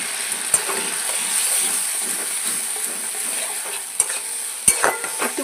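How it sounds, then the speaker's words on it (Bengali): Spice paste with green chili and poppy seed paste sautéing in a pan, a steady close sizzle with stirring scrapes and a few sharp clicks of the spoon against the pan. "একটু কষিয়ে নেব।"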